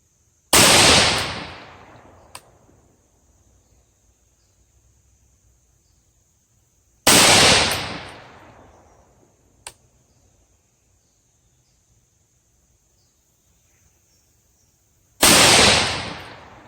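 Rifle shots from a Palmetto 224 Valkyrie barrel fired at a 110-yard range: three loud, sharp cracks spaced several seconds apart, each with a ringing decay, plus a couple of faint distant pops and a steady high whine between.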